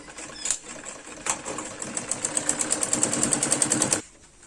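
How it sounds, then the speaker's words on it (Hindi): A sewing machine runs a topstitch along a Patiala salwar, starting after a couple of short taps and building into a fast, even whirring clatter for about three seconds before stopping abruptly. "अब इसके ऊपर एक दबाने वाली सिलाई लगा के इसे पक्का कर लेंगे"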